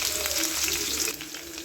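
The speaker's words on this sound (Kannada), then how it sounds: "ಬೆಳ್ಳುಳ್ಳಿ ಎಲ್ಲ ಚೆನ್ನಾಗಿ ಫ್ರೈ ಆಗಬೇಕು, ಗೋಲ್ಡನ್ ಬ್ರೌನ್ ಬರೋವರೆಗೂ ಫ್ರೈ ಮಾಡಬೇಕು" Garlic frying in hot oil for pepper chicken, a steady close sizzle and crackle with no speech, easing slightly near the end.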